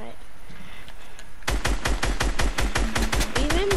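Rapid automatic gunfire in Fortnite, starting after a quieter opening and then firing in a fast, evenly spaced burst of loud, close shots, with a voice talking over part of it.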